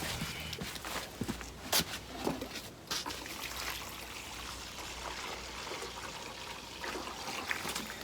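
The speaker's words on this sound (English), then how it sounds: "Gonna put some water with it." Water is poured into a mix for building garden steps beside a wet trench outdoors, a steady close trickle and splash running for several seconds with no talking.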